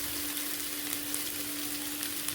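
Chicken pieces with onion and red and green peppers sizzle and fry steadily in a pan, a continuous close crackling hiss with no voices.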